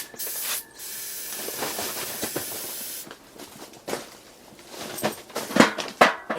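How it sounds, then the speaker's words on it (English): Carb cleaner sprayed onto a two-stroke engine gives a close, steady aerosol hiss lasting about three seconds, then shorter bursts and clatters of handling follow. "Alright, let's try some carb cleaner."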